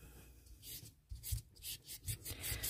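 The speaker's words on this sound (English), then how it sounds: "Get some good sandpaper." Sandpaper scrapes across cast resin in short, rhythmic rubbing strokes, close and fairly quiet with brief pauses between passes.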